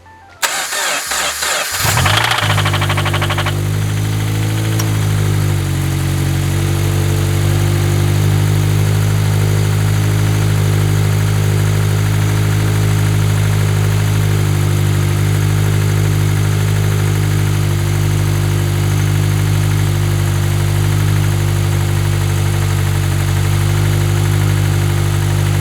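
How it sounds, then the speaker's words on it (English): A turbocharged Subaru BRZ engine cranks briefly, catches, and settles into a loud, steady idle close by that holds for over twenty seconds with no talking. "let me see if I can start the engine up"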